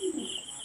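Pigeons kept in a loft give a single short, low coo close by, with a faint steady high whine behind it.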